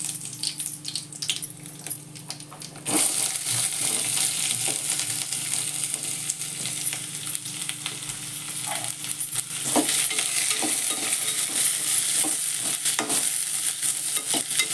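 Cinnamon, cloves, black pepper and onion roast in a pan, a continuous close sizzle with stirring scrapes that grows louder partway through.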